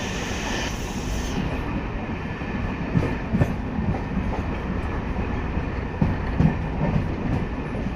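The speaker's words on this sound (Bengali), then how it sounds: "আমাদের ট্রেন ঢুকছে এখন রানাঘাট জংশন" A train rolls into Ranaghat Junction on a winter night, a steady loud rumble with rhythmic wheel clatter on the rails and a few sharper knocks over the joints, with no voices.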